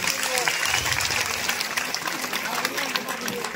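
A crowd applauds three performers at a public felicitation event for a minister in Satara, the clapping dense, steady and close for the whole stretch, with voices mixed in underneath.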